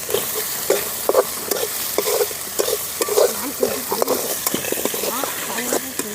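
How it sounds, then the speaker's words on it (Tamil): Banana flower curry ingredients frying in a pan for valaipoo kulambu, with a spoon stirring and scraping in uneven strokes over a steady close sizzle, while a voice speaks now and then. "நல்லா இப்படி கிழக்க வறுத்துக்கணும்"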